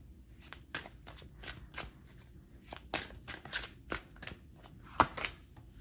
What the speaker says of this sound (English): Let's go ahead and pull cards to clarify.